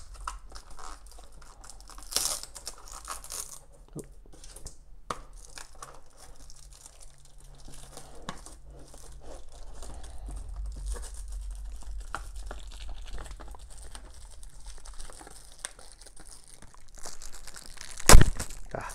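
Plastic wrapping torn and crinkled open on a fabric care kit box, a series of close, quiet crackles and rustles, ending in one sharp rip.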